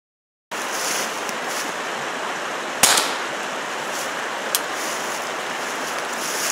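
A single sharp, muffled crack from a suppressed TX22 pistol fired outdoors stands out over steady wind-like noise, followed by a fainter small pop a couple of seconds later.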